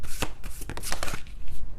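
Tarot cards being shuffled by hand, a brisk burst of papery riffling and slapping flutters, close and fairly loud, with no voice over it.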